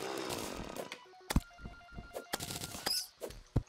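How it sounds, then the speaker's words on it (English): A drill digs through blocks in the Terraria video game, giving a harsh buzzing, chainsaw-like mechanical grind broken by repeated sharp clicks and impacts, moderately loud with no talking. "the drill's going to make it easier than it would have been otherwise"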